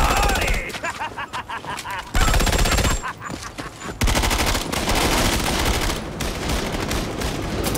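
Bursts of video game gunfire from the shooting of police in Batman: Arkham Origins, loud rapid volleys broken by short pauses, with brief talk mixed in.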